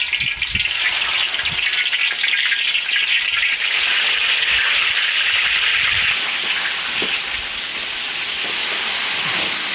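Catfish fries in hot oil in an iron wok, giving a loud, steady sizzling hiss that runs unbroken from start to finish with no talking.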